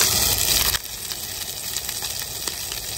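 Roadkill deer meat frying in a pan at a truck driver's roadside stop, a steady close sizzle and hiss that drops lower after a brief louder burst at the start, continuing alone without talk.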